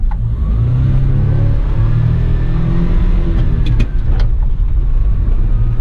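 A 1993 Suzuki Carry 4x4 kei microtruck pulls away in four-wheel-drive low with axles and diff locked, its small engine revving steadily and loud up close with a continuous rumbling drone and no talk.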